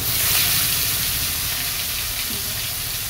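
Fish frying in a black iron wok (kadai), a steady broadband sizzle and hiss that holds at an even, fairly loud level throughout, close up with no voices.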